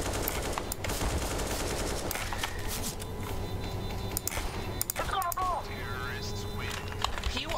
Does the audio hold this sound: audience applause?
no